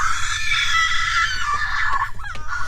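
A scream in a dramatic horror story reading set in Five Nights at Freddy's: Security Breach, a sustained high shrill cry that fills the clip loudly and alone, breaking into ragged, wavering bursts near the end.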